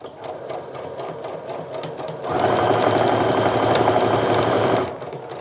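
A home sewing machine stitches quilt triangles for a Tula Pink quilt pattern: faint handling noise first, then a loud, steady motor whir with rapid needle clatter that runs for a couple of seconds before stopping abruptly.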